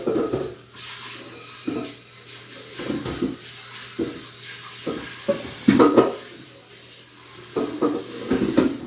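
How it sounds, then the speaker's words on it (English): A pan is rinsed under a running kitchen tap during late-night candy making, with intermittent splashing and clanks of metal against the sink in short bursts. "let me just rinse this pan here real quick"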